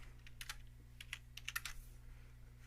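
Several bursts of keystrokes on a computer keyboard, clustered in quick irregular runs with brief pauses, quiet and close, over a steady low electrical hum.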